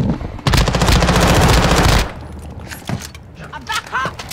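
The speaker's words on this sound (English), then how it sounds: "You are taking effective fire." Loud, sustained automatic gunfire in the Call of Duty DMZ video game: a dense burst of about a second and a half, followed by scattered quieter shots and game sounds.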